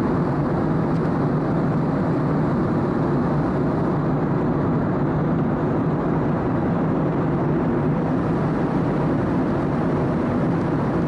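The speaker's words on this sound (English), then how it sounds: "it's a wide body aircraft with a very small cockpit" Steady broadband roar of an Airbus wide-body aircraft in flight, heard from inside the cockpit, a constant loud drone with no talk over it.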